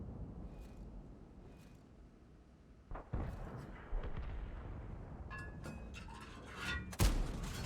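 A tank cannon in the video game World of Tanks booms in several heavy, distant-sounding shots over a low rumbling background, with the loudest blast near the end.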